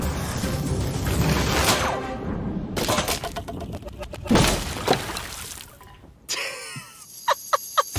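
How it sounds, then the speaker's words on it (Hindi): A heavy water bag of over 45 kilograms falls from height and its rope breaks, with a crash and water rushing and splashing across the ground, a loud, continuous wash with sharp impacts and a few faint voices. "हमारी रस्सी टूट गई और सारा पानी जमीन पर बह गया"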